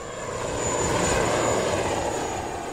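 A rescue helicopter hovers low over a lifeboat during a training exercise, its engine and rotor making a steady, loud, close drone with a high whine riding on top, with no voices.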